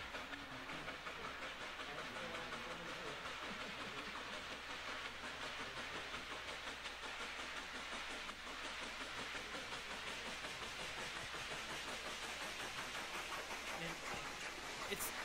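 A train climbs the Saluda Grade double track as rail fans chase it in cars; a steady, loud rumbling roar with hiss and rail clatter runs without a break throughout.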